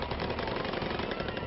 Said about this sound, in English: Both gunmen continue to spray the perimeter of the bank with deadly fire